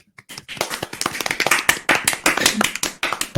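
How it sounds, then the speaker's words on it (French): Guests being welcomed with applause on a French comedy podcast: a small group clapping in a sparse, uneven patter of distinct hand claps, close and fairly loud, with no talk over it. "Un tonnerre d'applaudissements."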